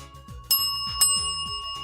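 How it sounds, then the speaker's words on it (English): Two sharp strikes of a debate timekeeper's warning bell, struck about half a second apart, each ringing with a bright sustained tone over a soft rhythmic background. "the warning bell 1 minute before the final time is 1 bell"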